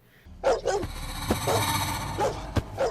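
A creature dog in the 2018 movie The Predator makes rough, snarling bark-like growls in loud bursts over a dense cinematic background rumble.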